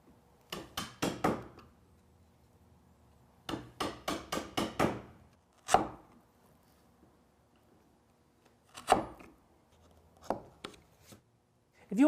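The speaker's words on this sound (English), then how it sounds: "I just nibble off the waste here at the edges. There's just a little bit of waste to clean up in those sockets. It's pretty quick work with a chisel and a mallet" Chisel struck with a mallet to pare waste from dovetail sockets, sharp woody taps in quick bursts of three to five blows separated by short pauses, close and crisp.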